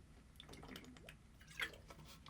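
A swig from a Boba Fett water bottle makes faint, close sloshing and soft gulping sounds with a few small liquid clicks in a quiet room.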